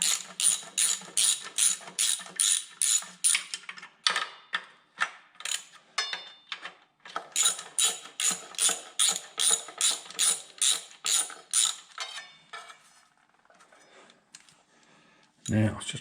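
A hand ratchet clicks in rapid repeated bursts while snugging bolts during reassembly of a John Deere B first reduction, close and loud, with brief pauses between runs of clicking and a short clatter at the end.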